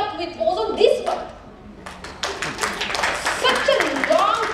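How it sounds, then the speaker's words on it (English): An audience claps at an indoor company event, scattered taps building into steadier applause, mixed with a voice speaking over it. "you can clap for us"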